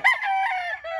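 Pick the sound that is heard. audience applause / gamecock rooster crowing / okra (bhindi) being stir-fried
gamecock rooster crowing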